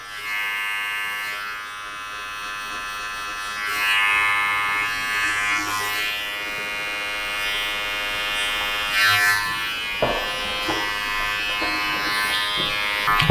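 An electric hair clipper set to a 0.5 guard runs steadily while tapering the edge of growing-out braided hair, its close, constant buzz shifting slightly in pitch as the blades move across the hairline.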